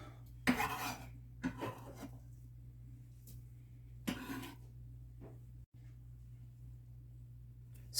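Ingredients for a Jamaican sweet potato pudding, such as flour, cornmeal and spices, are dropped into a mixing bowl: a few soft clinks and scrapes, quiet and sparse, over a steady low hum.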